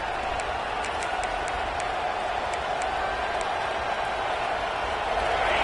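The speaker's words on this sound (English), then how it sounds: "This crowd, full throat, spreading the eardrums" Stadium crowd at an Alabama college football game roaring steadily after an incomplete fourth-down pass, a dense, sustained wall of distant cheering with no break.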